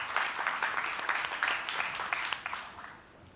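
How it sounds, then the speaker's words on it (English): An audience at a conference gives steady applause welcoming a speaker to the stage, dense clapping that holds strong before fading out near the end. "welcoming applause"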